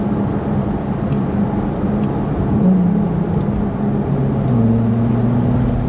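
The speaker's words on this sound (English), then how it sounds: "we're far enough away from the house to engage the engine" Ferrari 296 GTS engine starting and running on a cold, sunny 2-degree morning, a steady loud low drone with shifting pitch as it settles into idle, no talk.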